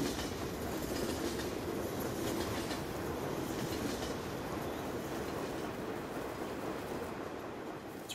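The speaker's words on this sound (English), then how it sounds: "you'll hear the train periodically" Steady rumble and rhythmic clatter of a train rolling past on an American-themed video game map, continuous and fairly even in loudness with no talk.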